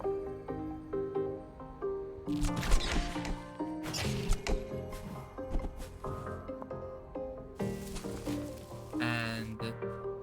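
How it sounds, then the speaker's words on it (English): Ceiling enemies in the game Islets drop down with a few sharp, punchy impact thuds. The thuds land over a busy, layered game music track. "Ceiling enemies make specific noises when they fall."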